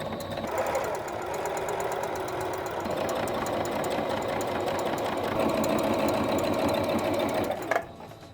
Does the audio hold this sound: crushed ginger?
no